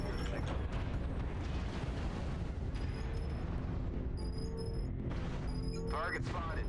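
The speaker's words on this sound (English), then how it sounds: "Artillery strike." A MechWarrior Online artillery strike booms and rumbles in continuous heavy explosions, dense and low, while a player talks over the barrage.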